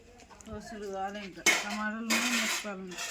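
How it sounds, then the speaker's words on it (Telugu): A knife cuts onions in a village kitchen, giving a few short scraping, crunching bursts against a background of voices. "ఉల్లిగడ్డ అయితే కోస్తుంది"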